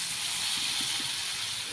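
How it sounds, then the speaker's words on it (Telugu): Brinjal pieces drop into hot tempering oil and set off a loud, close, continuous hiss of sizzling that holds steady for a couple of seconds. "పోపు వేగిపోయింది కదా, వంకాయలు కూడా వేసేసుకుంటున్నాను."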